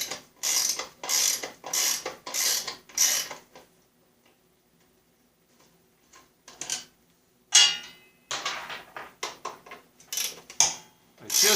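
An SK ratchet wrench clicks in rapid bursts of close, sharp ratcheting, several runs separated by a brief pause.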